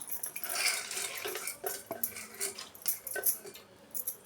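Small hard grains rattle and clatter into a metal pot, with a few clinks of a utensil against the rim, close by.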